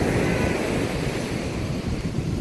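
Sea waves wash continuously onto the shore at high tide, a steady rushing surf roar with wind buffeting the microphone and no talking.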